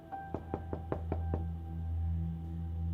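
Knocking on a house door in a domestic drama scene: about six firm, evenly spaced raps in quick succession, then only quiet room tone.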